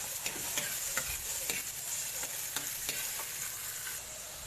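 Onion and tomato sauté in oil with a steady soft sizzle, while a spoon stirs and taps the pan in quick, uneven clicks close by.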